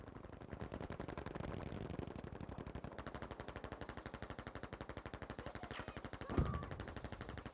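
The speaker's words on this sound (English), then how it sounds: "Brooks going for shots against Renegade Ram." Sustained rapid machine-gun fire rattles on steadily in a Battlefield V competitive match, with one sharper, louder blast near the end.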